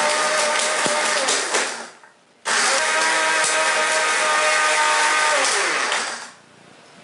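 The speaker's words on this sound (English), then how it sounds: "turn on the blender." A blender grinding dry bread into breadcrumbs roars loudly at full speed for about two seconds, cuts out briefly, then grinds again steadily for several seconds before stopping.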